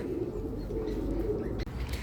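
Pigeons coo in a low, steady murmur close by outdoors, with a brief knock near the end.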